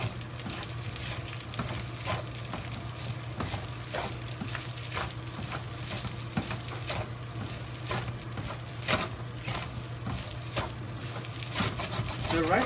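Rice and bacon fry in a pot, giving a close, continuous sizzle broken by regular scraping strokes as the mixture is stirred, with no talk over it.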